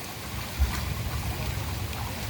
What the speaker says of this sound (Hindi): ये वाटरफॉल शिवलिंग को अभिषेक करती हुई यहाँ से बहती है